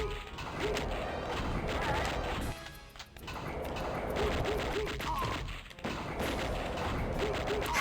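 Enemy gunfire in Wolfenstein 3D on the 3DO console, a dense, loud burst of retro game shots that runs almost continuously, with two brief drops near the third and sixth seconds.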